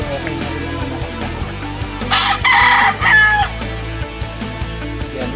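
A gray gamefowl rooster from Ilocos crows loudly and close by on a game farm, one drawn-out cock-a-doodle-doo broken into two bursts over a low background hum.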